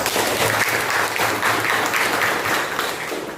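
Students clapping in a classroom, a steady dense burst of applause that stays loud and even for its whole length, with no voices over it.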